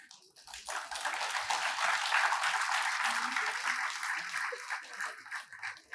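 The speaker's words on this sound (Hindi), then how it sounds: "आपने कितनी जोरदार तालियां बजाई हैं।" Audience applause at a live Hindi poetry gathering (kavi sammelan) in Chandigarh, a sustained, dense wave of clapping that swells and then tapers, with faint voices underneath.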